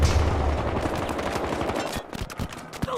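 HK-51 rifle gunfire in the video game Battlefield Hardline: loud, sustained shots with a fairly slow rate of fire, followed by a few sharper separate cracks near the end, with no voices.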